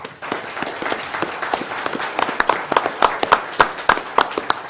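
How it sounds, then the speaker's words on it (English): An audience at a county board of supervisors meeting breaks into applause, a steady patter of many hands clapping that swells and grows more distinct over a few seconds. "So that deserves a round of applause."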